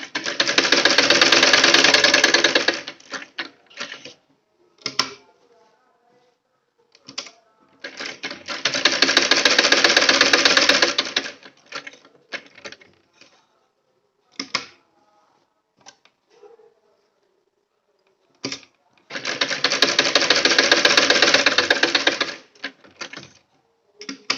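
A sewing machine stitches a fabric sleeve in three loud, sustained bursts of rapid mechanical chatter, separated by quiet pauses filled with short clicks and handling of cloth.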